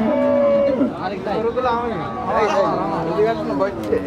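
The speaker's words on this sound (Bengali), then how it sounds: "এই যে দেখছেন, অনেক বড় বড় ষাঁড় গরু।" Bulls low and moo at Aronkola cattle market, a large livestock market, with several drawn-out calls overlapping across the whole stretch, close and loud amid steady crowd noise and people talking.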